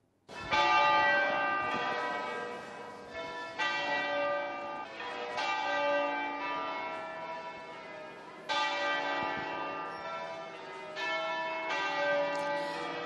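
Church bells peal loudly and continuously in central Chiavari, Italy, overlapping strikes ringing out in a full, resonant sequence with no voices.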